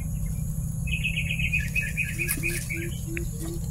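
Quick bursts of high chirping bird calls repeat over a steady hum of insects, with a lower call pulsing in a regular rhythm.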